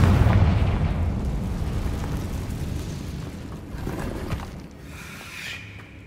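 Confringo spell explosion in the Hogwarts Legacy video game: a deep, rumbling blast that starts loud and slowly decays over several seconds, with a faint hissing crackle near the end.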